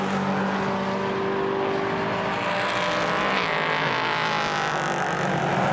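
Racing cars at speed on the Portimão circuit in a GT race, a loud continuous engine roar with a car sweeping past and fading, sustained throughout.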